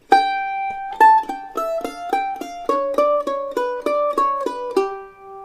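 Opening phrase of the bluegrass fiddle tune Blackberry Blossom, played alone as a steady run of clean, evenly spaced plucked notes over about five seconds, with no talking.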